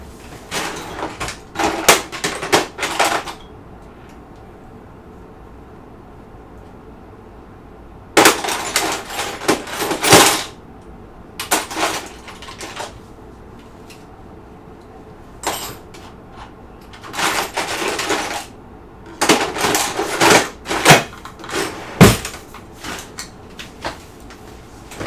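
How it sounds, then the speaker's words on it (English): Someone gets out a set of Allen wrenches while assembling an LDO Voron Trident 3D printer kit, making several bursts of loud metallic clattering and rummaging with long quiet gaps between them. "I'm going to get my nice Allen wrenches for this because this is going to take a while"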